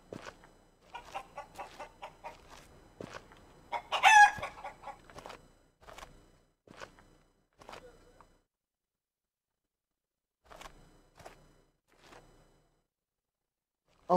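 Game chickens cluck in a loud burst with a rooster crowing in the middle, then a few scattered clucks trail off into quiet; someone talks over the start.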